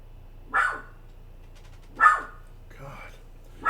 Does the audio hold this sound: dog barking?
yes